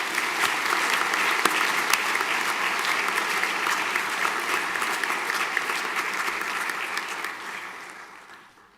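Sustained applause at a school senior prizegiving, a dense, even wash of many hands clapping that holds steady for several seconds before tapering off.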